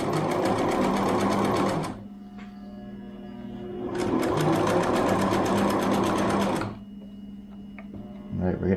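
A sewing machine stitches over elastic on a homemade cloth face mask in two close, loud bursts of rapid mechanical chatter, each a few seconds long, with a brief low hum and pause between them and a short start at the end.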